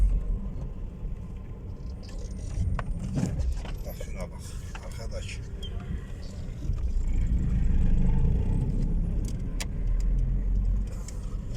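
Steady road traffic with cars passing in a town street on a market day, a continuous low rumble that swells louder toward the middle and later part, with faint scattered background sounds.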